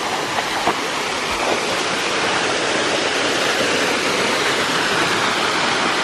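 A forest waterfall roars as a loud, continuous, dense rush of falling water, steady and unbroken throughout with no voices.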